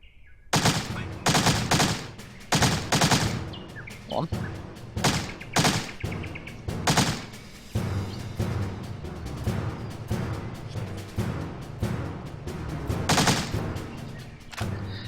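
Gunshots ring out in the stealth video game Death to Spies, a string of sharp, loud bursts in irregular clusters that echo between shots over steady background game sound.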